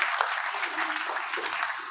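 An audience at a Bhagwat Katha gathering applauds in a short, steady wave of clapping, with a voice faintly audible beneath it.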